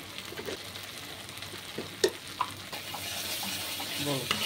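Spice mix frying in oil in a pan for a restaurant-style mixed vegetable curry: a steady low sizzle with a few sharp pops and scrapes, close and moderately quiet, no talking.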